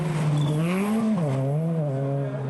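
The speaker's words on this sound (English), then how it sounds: "And here comes Patrick Richard on his second pass" A rally car on a gravel stage at the 2010 Canadian Rally Championship's Rallye Baie des Chaleurs roars close by, its loud engine note climbing and then dipping as it shifts and passes, with no voices.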